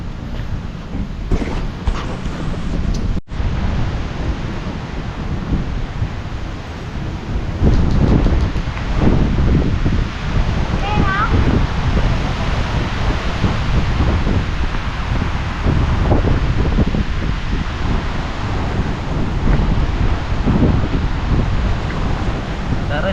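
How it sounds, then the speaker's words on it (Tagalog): Strong wind roars and buffets the microphone throughout, swelling in gusts, with occasional faint voices and rustling in the background. "Malakas ang hangin, oh."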